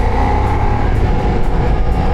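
A 2025 Ducati XDiavel V4 sport cruiser revs its V4 engine close by, giving a steady, loud, continuous engine drone with small surges in pitch from a sensitive throttle. No one speaks.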